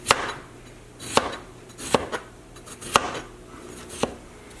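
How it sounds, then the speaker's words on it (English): Potato chipper pressed down to slice potatoes for chips, five crisp chopping clacks at roughly one-second intervals, close and clear with no talk. "we're going to use this tool. It's just called a chipper, and where you basically just bring it down to make slices"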